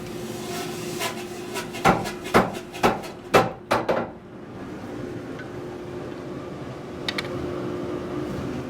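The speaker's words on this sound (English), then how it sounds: "So now I'm going to use my 600-pound flatter" A 600-pound flatter striking hot steel while forging a knife blade, about eight sharp ringing blows in a steady rhythm, loud and close, followed by a quieter hum of the shop.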